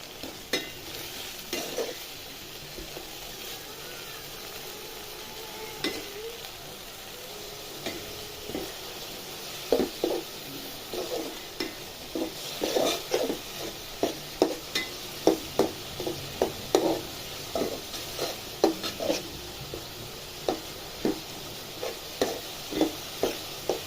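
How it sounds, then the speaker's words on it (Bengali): Onions frying in a pan at a steady low sizzle, with a spoon scraping and stirring in irregular clinks that become frequent and louder midway through. "আমার পেঁয়াজটা একটু ভেজে রাখতে হয়"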